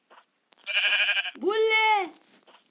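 Sheep in the Minecraft video game give two drawn-out bleats, the first buzzy and the second rising then falling, loud and close after a brief click.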